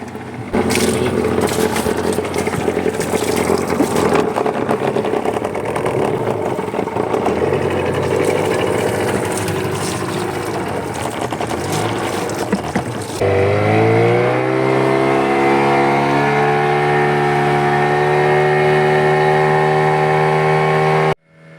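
A fishing boat engine roars loudly and steadily, then settles into a constant droning hum as it keeps running.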